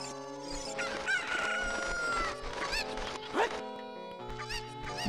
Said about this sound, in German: Hühnchen!